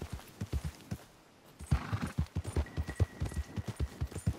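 Horse galloping in the video game Red Dead Redemption 2: rapid, rhythmic hoofbeats close by, pausing briefly and then resuming at a steady pace under faint background ambience.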